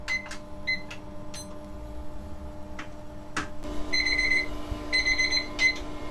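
A beeping timer alarm sounds in short repeated bursts of high electronic tones, preceded by a few clicks and clatters in a quiet room.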